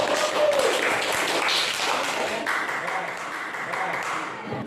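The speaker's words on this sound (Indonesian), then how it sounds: "Ya, beri tepuk tangan dulu kepada peserta" An audience applauds after a group's classroom presentation with moderate, scattered clapping that continues steadily at a fairly even level, with voices faintly mixed in.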